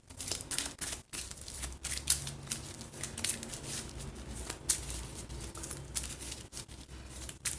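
Rapid riffle-shuffling of a deck of game cards at a table, a dense, soft crackling flutter of card edges that continues for several seconds, quiet and close, with no speech.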